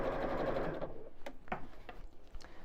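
A sewing machine stitches a canvas bag strap in a steady close mechanical whir that slows into a few separate clicks and stops at the end.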